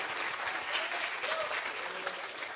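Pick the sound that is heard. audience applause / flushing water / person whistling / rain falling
audience applause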